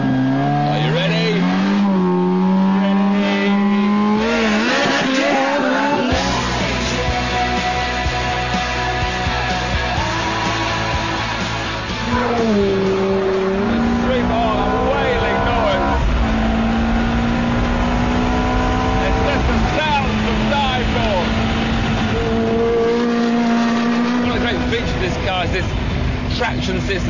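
A Ferrari F430 roadster engine revs hard for a launch-control start, then pulls away through rising and falling gear-change sweeps. It is loud, close and continuous, with speech partly over it.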